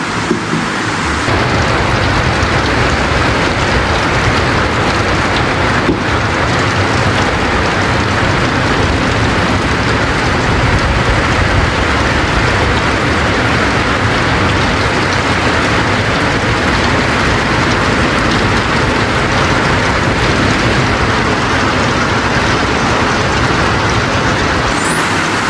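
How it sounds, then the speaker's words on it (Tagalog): Heavy rain pours in a loud, dense, unbroken roar in a rural Philippine setting near rice fields, a constant close wash of sound with no voices. "Bumuhos na po ang malakas na ulan."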